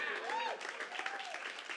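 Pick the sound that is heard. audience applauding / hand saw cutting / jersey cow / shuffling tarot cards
audience applauding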